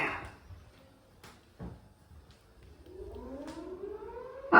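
An air raid siren begins to wind up, its rising wail emerging faintly after a few soft knocks and growing steadily louder.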